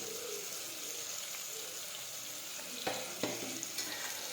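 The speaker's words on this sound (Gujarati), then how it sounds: "હવે ફરી આપણે સાતળી લઈશું" Spiced ridge gourd fries in a pan with turmeric, cumin and salt, a soft steady sizzle with a few brief stirring clinks near the end, quiet and close.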